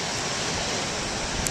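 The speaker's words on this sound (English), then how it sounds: "go down there and see if I can get the waves" Big ocean waves surge in a steady, loud wash of surf from a shoreline, continuous and roaring with no talk.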